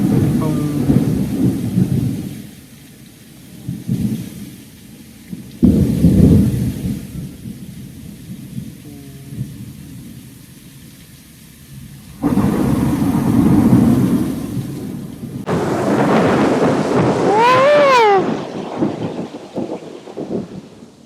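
A heavy thunderstorm with steady pouring rain, deep rolling thunder building in long rumbles, and a loud close crack late on.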